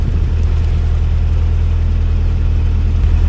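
A canal narrowboat's engine runs steadily close by, a deep rhythmic low throb with a constant mechanical hum and no voices over it.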